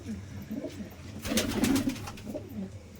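Pigeons cooing in a pigeon house during monsoon weather, a steady layered murmur of soft, low coos from several birds close by that swells briefly in the middle, with no talk.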